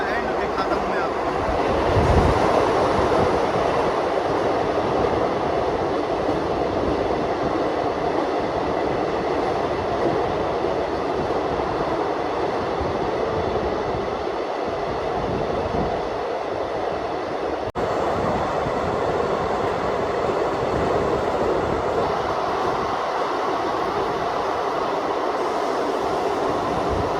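A train runs steadily through a long 12 km tunnel toward Banihal, a continuous loud, close rumble and roar of wheels and carriage with no break, enclosed and reverberant throughout.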